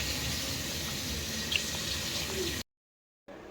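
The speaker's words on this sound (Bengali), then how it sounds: "চায়ের বাসন টাসন একটু ধুয়ে দাও" A kitchen tap runs into a sink while tea dishes are washed. The water rushes steadily for a few seconds, cuts off to silence, then starts again.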